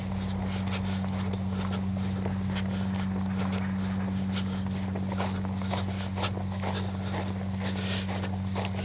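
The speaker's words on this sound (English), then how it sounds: "Motor on." Electric motor of an E-flite Timber 10th-anniversary SE RC airplane running outdoors on a runway, a steady unbroken hum held for the whole stretch, with rough wind and ground noise over it.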